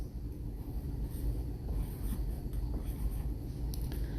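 Letters of a short sentence are written out by hand, giving a close, continuous scratching and scraping of a pen or marker over a low steady hum, with no speech.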